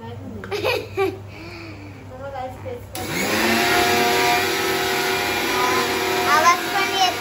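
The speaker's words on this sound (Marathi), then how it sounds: "मिक्सरचा आवाज येते" A kitchen mixer grinder starts up partway through and whirs loudly and steadily after a voice and giggles, with children still faintly audible over the motor.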